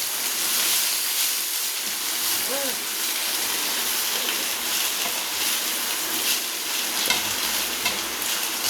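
Coriander leaves sautéed lightly in a pan for coriander thokku, giving a steady soft sizzle with occasional stirring scrapes, close and continuous, with a voice speaking briefly over it.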